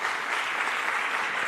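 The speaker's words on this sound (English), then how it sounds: "let's applaud him and wish him all the best" Audience applause for a birthday during a thematic tourism session, a steady dense wash of clapping from a crowd that holds evenly throughout, with no talk over it.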